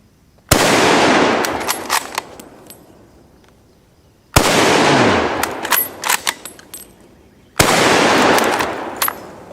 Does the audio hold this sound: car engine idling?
no